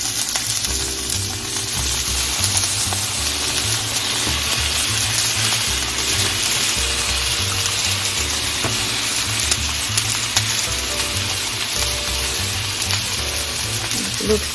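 Shrimp and vegetables, including carrots, fry in butter in a pan with a steady, close sizzle and occasional clinks of stirring. No one speaks.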